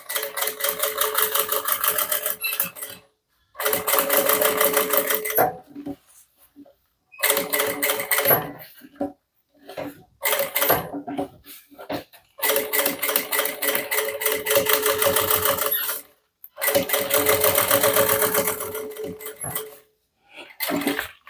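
An old sewing machine stitches a bag pocket and lining in long, fast whirring runs broken by short pauses, close and loud with no voices.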